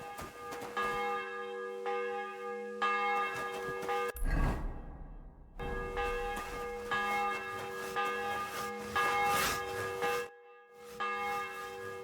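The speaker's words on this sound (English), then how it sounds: "The bell's ringing for hands the 5th time." A church bell rings in Kingdom Come Deliverance 2. It strikes again and again with long, rich tones that hang in the air, and a short swoosh cuts in about a third of the way through.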